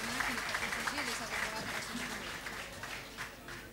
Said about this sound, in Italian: Salutiamoli con un altro grande, grande, grandissimo applauso